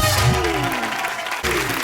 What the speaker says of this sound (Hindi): जोरदार तालियों से स्वागत कीजिए सुपर डांसर्स के सुपरस्टार मासूम और पाल्टन का